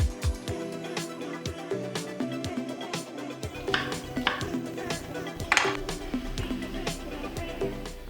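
A knife roughly chopping turmeric and ginger, a series of sharp irregular taps against a board, fairly close, with clustered strikes and short pauses between them.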